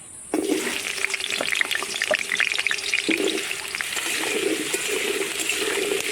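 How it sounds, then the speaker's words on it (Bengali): Potatoes fry in hot oil in a wok, a loud, dense sizzle that bursts in at the start and then crackles on steadily with sharp pops and spatters throughout, with no voices. "তেল গরম হয়ে গেছে, আলুগুলো দিয়ে দেবো।"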